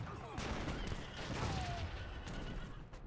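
Musket volleys from Musketeers and Grenadiers in Age of Empires III, with scattered cracking shots and battle clatter that overlap in a busy, fairly faint fusillade, mixed with game effects.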